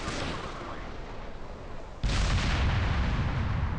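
A missile launch in a video game: a steady rumble of engine noise jumps at the midpoint into a louder, sustained roaring blast that holds to the end, with no talking.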